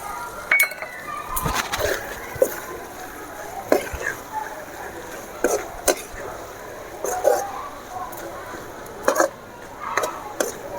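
Crushed garlic and curry leaves go into a hot pan and are stirred with a utensil, giving irregular scrapes and clinks of metal against the pan over a light sizzle, close by, with a person talking throughout.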